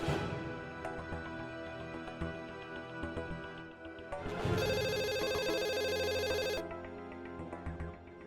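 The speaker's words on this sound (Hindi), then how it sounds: "अरे फोन उठा ला ना, जाके फोन बज रहल बा।" A telephone rings indoors in a domestic drama scene, a musical electronic ringtone repeating under background score, with a sustained bright tone swelling in the middle.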